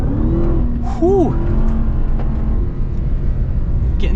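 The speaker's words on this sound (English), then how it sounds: "Getting some drifting here with the TRX." A 2021 Ram TRX pickup truck's engine roars steadily while drifting off-road, a loud continuous rumble with a brief rising whine partway through and no talk over it.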